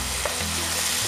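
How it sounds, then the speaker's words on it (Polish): Onion marmalade with brown sugar simmering and sizzling steadily in a pan, a continuous close bubbling fry with faint stirring, no voices. "I wszystko gotujemy, dusimy, aż większość płynów nam odparuje."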